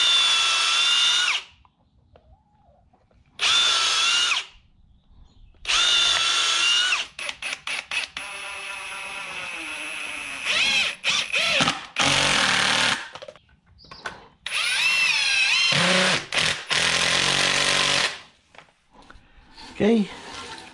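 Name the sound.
power drill drilling wood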